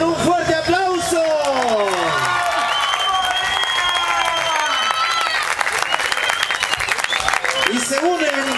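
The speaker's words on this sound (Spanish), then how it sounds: "Si no es con un fuerte aplauso." Crowd applause and cheering for a police and traffic acrobatic squad, steady dense clapping sustained throughout with an announcer's voice speaking over it at the start.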